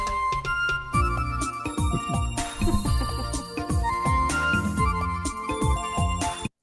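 A bright, plucked Vietnamese melodic line played on tuned instruments, flowing steadily over a sustained backing before stopping abruptly.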